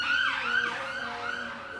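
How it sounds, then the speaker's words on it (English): A wailing emergency siren sweeps up and down repeatedly, fairly loud and close, with traffic rumble beneath. "sorry for the sirens"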